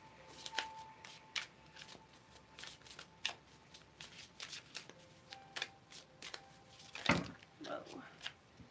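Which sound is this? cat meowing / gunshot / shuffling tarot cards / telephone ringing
shuffling tarot cards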